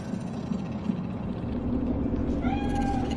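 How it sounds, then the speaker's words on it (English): A cat in the video game Cyberpunk gives a short meow near the end, over a steady low ambient city hum and rumble, with no voices. "Do you see it? The cat?"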